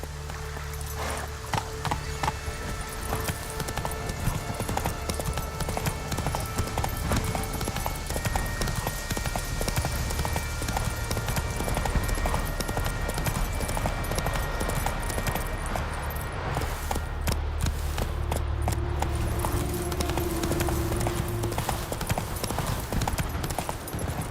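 Roach the horse gallops in The Witcher 3, hooves drumming in a fast, steady clip-clop with a faint jingle of tack under a constant outdoor ambience.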